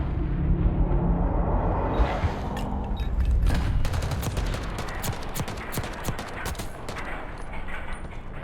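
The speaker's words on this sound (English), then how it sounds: "Taking shots back and forth now." Rapid gunfire from a Call of Duty League match, with dense bursts of shots and sharp transient cracks trading back and forth over a continuous rumbling mix of game sound, loud and close.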